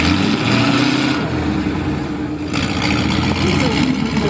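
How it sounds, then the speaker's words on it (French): A tank's nine-cylinder engine rumbles steadily up close at an armoured vehicle museum demonstration, a deep continuous drone with a slight rise in intensity partway through. "il fait beaucoup de bruit grâce à son moteur"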